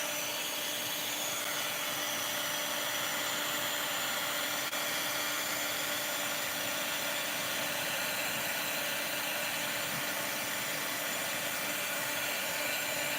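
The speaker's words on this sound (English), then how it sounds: "let's put a little bit of a heat tool on that one" A heat tool blows on layered craft work with a steady, even whirring hiss that runs unbroken for the whole stretch, close and moderately quiet.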